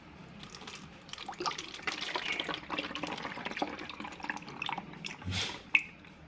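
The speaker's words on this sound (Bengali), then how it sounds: "ডেকচিটা ধরেই আমি ঢেলে নিচ্ছি।" Homemade mango drink poured from a cooking pot into small bottles, a close, gurgling trickle and drips filling a bottle, rising in pitch, with a sharp clink near the end and no talk.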